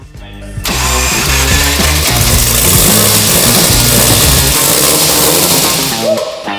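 A four-rotor rotary engine fitted in a cheap Volvo fires up for its first start, running loud and rough with heavy broadband roar for several seconds before cutting out; a voice is faintly heard near the start.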